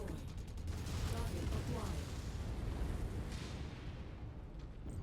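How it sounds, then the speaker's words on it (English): Cannons booming around a base in a video game, a dense continuous barrage of loud blasts and rumbling that fills the whole clip. "Oh, all those cannons are around the base."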